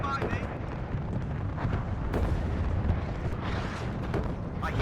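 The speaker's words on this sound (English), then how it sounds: "Also got my cluster artillery coming in to hit this as well." Cluster artillery in the WARNO video game lands as a rolling series of rumbling booms and crackling bursts, with speech running over the top.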